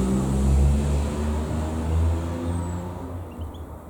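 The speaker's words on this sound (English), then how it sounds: "that was rather a noisy car went by" A car passing by outdoors, a broad low rumble that swells and fades over several seconds, fairly loud and alone without talk.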